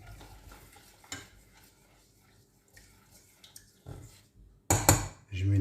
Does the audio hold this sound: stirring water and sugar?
yes